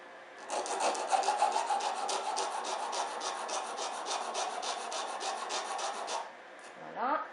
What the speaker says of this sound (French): je vais limer avec ma lime aiguille